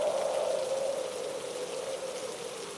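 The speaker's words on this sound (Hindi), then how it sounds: "बारिश रुकने का नाम नहीं ले रही।" Steady rain hisses down continuously in a cold forest, an even wash of falling water with no voices.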